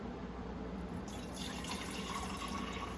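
Homemade bone broth pours from a lipped container into mason jars set in a kitchen sink, a steady close liquid stream and splash that runs without a break for about three seconds.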